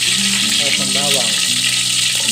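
Garlic frying in cooking oil gives a steady bright sizzle throughout, loud and close, with a voice speaking briefly over it.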